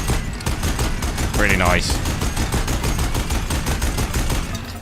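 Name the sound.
minigun firing in video game Horizon Zero Dawn Remastered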